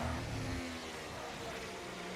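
A Ferrari and a McLaren race in a Formula 1 video game at Qatar, with a steady mid-pitched engine drone and a falling engine note early on, fairly loud and without talk.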